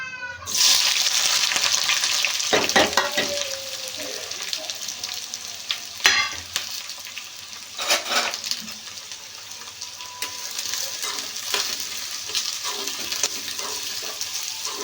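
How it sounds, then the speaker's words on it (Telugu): Chopped onions for a Telugu egg curry crackle and sizzle in hot oil, a steady close fry with a few louder spatters and occasional stirring scrapes throughout. "ఆయిల్ అయితే వేడెక్కింది. ఇంకా ఉల్లిగడ్డలు అయితే వేసేసుకున్నాము."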